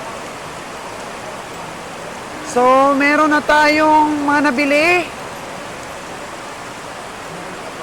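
Rain falls steadily as a constant hiss through a livestock market where buffalo are inspected and buyers shelter from the downpour. Someone speaks briefly in the middle over the rain.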